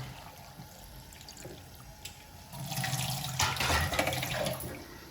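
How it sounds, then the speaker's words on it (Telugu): Water pours into a bowl of washed tamarind, a soft splashing trickle that swells louder and fuller about halfway through, with no talking. "చింతపండు కడుక్కొని దాంట్లో వాటర్ వేసాను."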